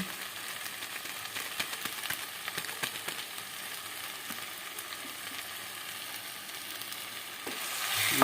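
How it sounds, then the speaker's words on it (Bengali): Tangra fish masala with Kashmiri chili powder sizzles steadily in a pan while it is stirred, giving a continuous close frying hiss with light scraping, and no voices. "এবার একটু ভালো করে নাড়িয়ে চাড়িয়ে নিচ্ছি এইভাবে নাড়িয়ে চাড়িয়ে নিচ্ছি"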